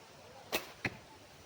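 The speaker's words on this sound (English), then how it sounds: "I'm shooting through the branches and the trees, which makes it even more interesting." An arrow is loosed from a bow at an archery range, shooting through tree branches, heard as two sharp close percussive snaps, the bow's release followed moments later by the impact, over quiet outdoor background.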